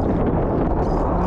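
Strong wind buffets the microphone with a continuous, loud rumble at an outdoor fishing camp, with no other sound audible.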